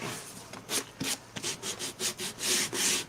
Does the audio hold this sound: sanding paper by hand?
yes